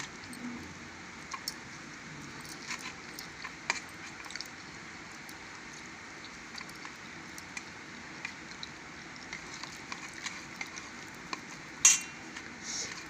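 Mutton keema fry with cashews stirred in a pan, heard as faint, scattered clinks and scrapes of a utensil over a soft, steady background hiss.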